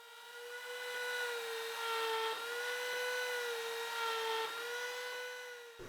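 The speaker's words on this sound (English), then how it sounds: "line up the matching line to that router bit, and then clamp it in place and cut the next mortise." A router cuts a mortise in wood, giving a steady high whine that holds almost level for several seconds before cutting off abruptly, close and loud with no talking.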